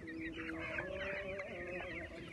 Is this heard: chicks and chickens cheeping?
yes